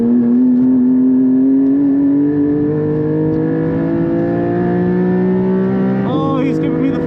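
A modified Porsche 718 GT4 pulls hard on a race track, its engine note climbing steadily and loud from on-board, with a brief shift blip near the end.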